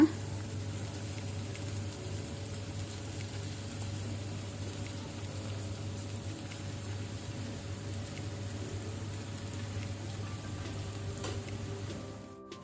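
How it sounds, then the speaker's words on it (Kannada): Strained rice sevai tipped into a hot pan for sevai upma sizzles and fries with a steady, crackling hiss, with faint stirring scrapes and a low background hum. No one speaks. "ಈಗ ನಾವು ಸ್ಟ್ರೈನ್ ಮಾಡಿಟ್ಟ ರೈಸ್ ಸೇವಯ್ಯ ಹಾಕೋಣ"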